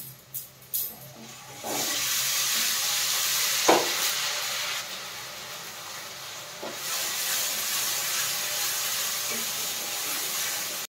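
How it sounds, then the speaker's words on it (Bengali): Garlic and ginger paste frying with onion in hot oil gives a steady, loud sizzling hiss that runs almost unbroken, with a few sharp spits and pops near the start. "রসুন আদাটা ভাজা হয়ে গেছে"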